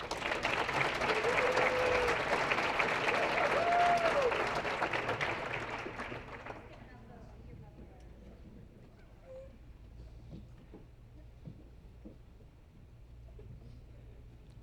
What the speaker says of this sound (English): Round of applause for Coach Dorman.